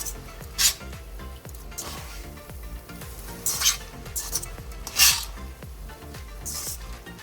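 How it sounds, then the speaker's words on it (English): Cooked spaghetti is stirred into sauce in a hot pan, with a steady soft sizzle and repeated scraping swishes of the spoon, some louder strokes standing out, with no speech. "So after adding the spaghetti, we'll just mix everything."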